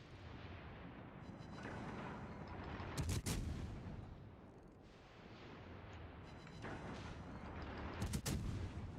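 Warship guns fire in World of Warships Legends amid a low rumbling battle din. Two sharp, heavy salvo blasts land several seconds apart over continuous rolling background booms, with no voices.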